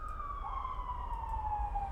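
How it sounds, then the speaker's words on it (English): An emergency siren wails steadily outdoors, its rising-and-falling tone fairly distant but clear over a low rumble of background noise, with no voices. "Why are there so many sirens today?"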